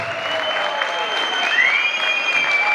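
A crowd at a celebration honoring a future São Paulo bar association president claps and cheers loudly, dense applause with a few whistles rising over it.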